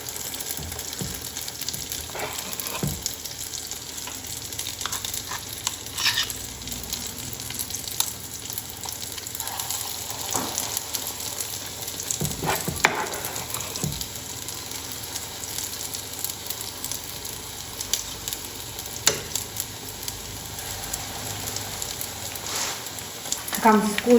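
Milk batter fritters (petulla) fry in plenty of hot oil, making a steady, soft sizzle with occasional louder crackles and clinks, while someone talks over it.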